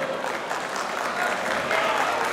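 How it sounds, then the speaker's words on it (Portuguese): Audience applause at an MMA event, a dense, sustained wash of clapping from a crowd, steady and fairly loud with faint voices mixed in. "Cadê os aplausos para o Celso aí?"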